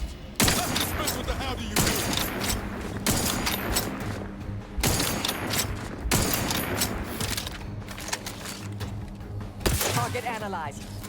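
Gunfire in the video game Outer Worlds 2: rapid, repeated shots crack in dense volleys over about ten seconds, loud and close, with a steady low hum beneath and a voice talking over the shooting.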